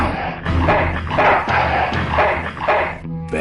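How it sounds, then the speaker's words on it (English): Repeated dog barks in the Full Throttle Remastered adventure game, several loud close yaps and woofs in quick succession filling the whole moment, with no talk over them. "Apparently this guy has a dog."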